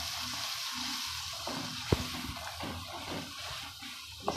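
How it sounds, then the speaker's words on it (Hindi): Finely chopped tomatoes fry for a daal mash masala with a steady, close sizzle. Bubbling and stirring run underneath, and there are a couple of sharp clinks of a utensil against the pan. "इसको 2 मिनट के लिए भून लें"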